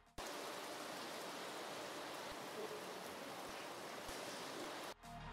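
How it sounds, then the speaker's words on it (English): Steady broadband rain layered over a Frenchcore break, a dense continuous hiss of falling rain that holds loud and even, then cuts off abruptly near the end. "I'll layer this raining sound to it."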